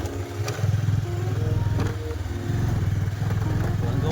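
A motorcycle rides along a slippery, rain-wet forest road in Lankamalla forest, its engine thrumming steadily and loud near the microphone for the whole stretch, with a couple of brief knocks.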